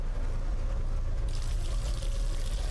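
Water pouring into a container inside the God of War 3 Remastered labyrinth, a steady continuous splashing flow that grows brighter and fuller partway through, heard alone and fairly loud.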